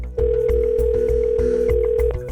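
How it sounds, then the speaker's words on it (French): A room telephone handset is lifted with a brief click, and a steady, loud dial tone follows and holds for about two seconds before cutting off. "Il décroche le téléphone de sa chambre et appelle le département de la justice du Texas"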